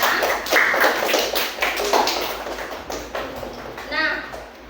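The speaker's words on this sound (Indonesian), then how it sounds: "Silakan tepuk tangan untuk Dania" A classroom of students claps for a classmate, sparse uneven hand claps and taps over a short stretch, with voices chattering alongside.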